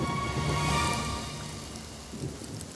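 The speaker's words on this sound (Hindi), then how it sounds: "बारिश शुरू हो गई है।" Steady rain beginning to fall, a soft continuous hiss with faint low rumbles that swell briefly, moderately loud at first and easing later, with no voices.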